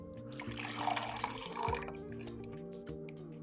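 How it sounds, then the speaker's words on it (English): Liquid trickles and splashes as it is poured into a jug, a soft, close gurgle that swells briefly and then settles, under a quiet background of sustained tones. "pour it into a jug"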